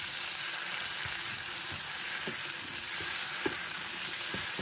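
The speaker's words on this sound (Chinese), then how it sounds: "翻炒至西红柿变软" Diced tomato stir-fried with carrot and scallion in a wok, a dense continuous sizzle up close with occasional scraping stirs of the spatula cutting through.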